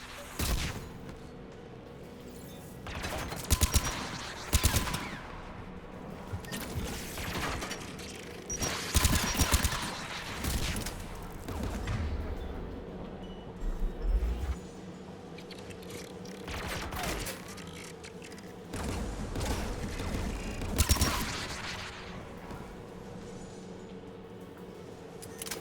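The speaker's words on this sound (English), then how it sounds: "AA guns ahead of us." Anti-aircraft guns firing in a video game, heavy thudding volleys in irregular clusters at moderate distance, mixed with mechanical clanks over a low ambient hum, with no talking.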